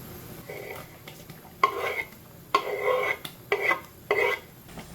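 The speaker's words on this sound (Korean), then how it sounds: "이제 끓기 시작하는 것 같아서 양파 투하하겠습니다" Chopped onion going into a pot of Korean kimchi stew just coming to a boil, heard as several close, sharp clattering bursts of pieces and utensil scraping against the pot, alone with no talk.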